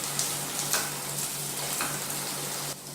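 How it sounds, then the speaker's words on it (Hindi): Potatoes frying in oil in a pan give a dense, steady hiss of sizzling, close and fairly loud, with a low electrical hum underneath and occasional brighter bursts. "ये देखिए, बस 1-2 मिनट ही मैंने इसको ऑयल में जो है फ्राई किया है"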